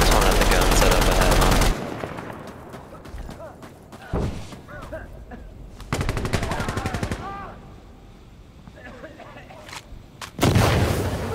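Gunfire in the video game Insurgency: Sandstorm, with loud dense bursts of rapid shots and heavy artillery-like booms that come in several waves, separated by quieter stretches with scattered distant shots and faint voices.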